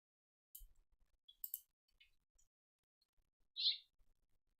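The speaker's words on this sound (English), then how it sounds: "That's a little house finch." A small house finch gives a single short, bright call partway through, with faint scattered chirps and light knocks around it in an otherwise quiet outdoor setting.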